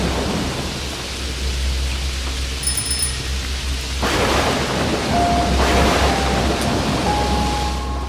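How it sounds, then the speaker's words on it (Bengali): Heavy rain pours steadily in a cartoon storm scene, with low thunder rumbling and swelling midway through; the downpour stays loud and continuous without any voices. "যা বৃষ্টি শুরু হলো"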